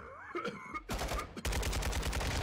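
Rapid, loud video-game gunfire rattling in dense bursts, starting with a short volley, then a brief pause, then sustained automatic fire to the end.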